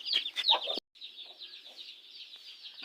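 Chickens and chicks in a brick-built cage at a home poultry setup: a few sharp hen clucks up front, then a steady stream of high peeping chick calls, close and fairly quiet.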